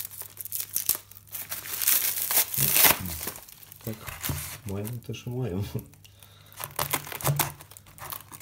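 A taped parcel is unpacked close up with loud crinkling and tearing of packaging and tape in bursts, while a person speaks briefly between the rustles.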